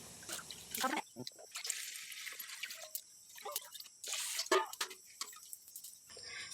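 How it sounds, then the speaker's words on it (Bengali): Jute greens and potatoes washed by hand in water outdoors under an open sky, with close splashing, trickling and dripping that comes in uneven bursts and pauses. "শাক আর আলুগুলোকে ধুয়ে নেব"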